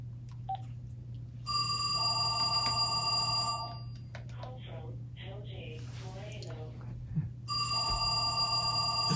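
A landline telephone rings in two long bursts with a steady electronic trill over a constant low hum, with a person talking in between the rings.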